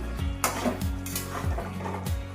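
Drumstick and potato poppy-seed curry stirred in a pan, a spoon scraping and knocking against the metal in a few repeated strokes, close and fairly loud with a faint simmer underneath.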